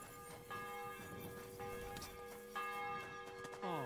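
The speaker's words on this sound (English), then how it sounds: "Every hour the fucking church bells go off telling you what hour it is" Church bells ring out in a steady series of tolls, each strike leaving long, layered harmonic overtones that hang in the air; no speech is heard.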